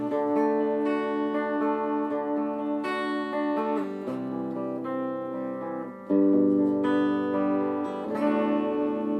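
A clean electric guitar rings out through an Orange Crush CR120C 2x12 combo amp with reverb, sustained chords and single notes blending with a shimmering, ringy tail. No one speaks.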